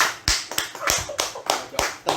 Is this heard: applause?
yes